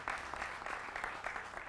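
Steady applause from a studio audience welcoming a national BJP spokesperson, Shivam Tyagi, to a televised debate, continuous clapping heard alone and at modest loudness.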